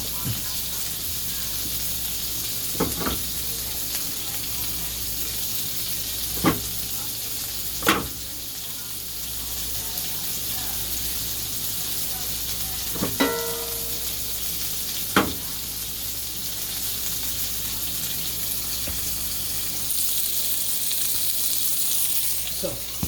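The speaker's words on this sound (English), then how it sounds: "I'm sauteing my mushrooms, a little bit of olive oil and garlic" A few mushrooms sauté in a teaspoon of olive oil with garlic for burgers, a soft continuous sizzle underneath occasional sharp clicks and scrapes of a utensil against the pan.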